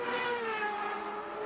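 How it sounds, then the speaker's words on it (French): High-pitched V8 turbo racing engines whine at a distance, their tones sliding slightly as the cars speed past, faint and continuous. "cette mélodie, c'est le son de ces V8 Turbo du championnat kart"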